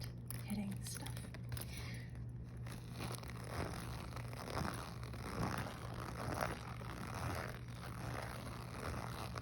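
A clothing zipper knocks and scrapes faintly against objects on a tabletop during soft lo-fi ASMR tapping, with scattered light clicks over a steady low appliance hum and a quiet voice.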